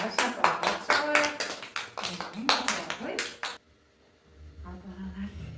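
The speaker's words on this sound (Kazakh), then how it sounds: "жарайсың, балалар, шапалақ шалайық." Children in a classroom clap in bursts, sharp close claps for a few seconds, then it falls quiet and low murmuring follows.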